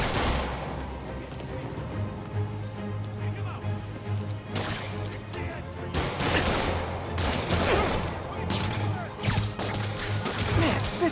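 Gunfire in the Marvel's Spider-Man video game, bursts of shots and crashing impacts over a rumbling game backdrop, with brief voices mixed in.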